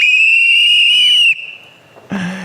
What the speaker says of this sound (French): un sifflet, le sifflet machine production, pour faire du bruit pour notre industrie. Alors, on siffle ensemble tous ensemble pour l'industrie.